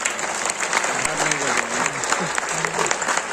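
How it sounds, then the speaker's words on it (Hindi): A crowd applauds at a mushaira poetry gathering held at a college in Wakra, Qatar, with steady clapping running under a voice. "मैं चाहता हूँ कि सलाउद्दीन भाई और अतीक साहब के लिए जोरदार तालियां हों।"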